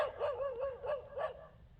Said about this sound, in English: accompanied by a barking dog